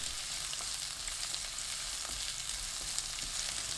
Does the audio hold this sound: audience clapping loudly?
no